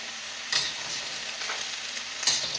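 Meat sizzling and frying in a pan during a stir-fry, a steady hiss with two sharper bursts of crackle as the food is stirred, close and clear with no talking.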